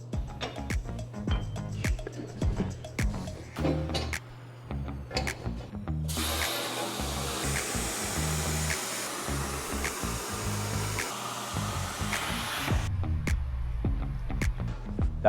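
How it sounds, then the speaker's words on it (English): A plasma table cuts a slot in steel plate with a loud, even hiss lasting several seconds, bracketed by clanks and handling knocks before and after. "I'm gonna attempt to use the plasma table."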